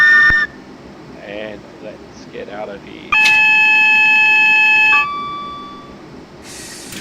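A train horn in Train Simulator Classic on a North London route sounds as a loud, steady multi-tone blast for about two seconds after a brief earlier toot, while someone talks before and after it.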